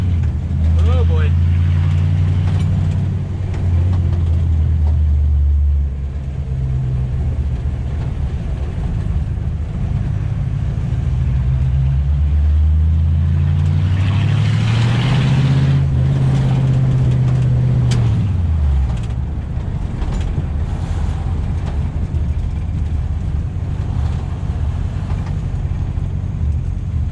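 A 1934 Ford with a rebuilt carburetor drives around a neighborhood, its engine droning loudly and steadily with gear changes rising and falling, while people talk over the engine.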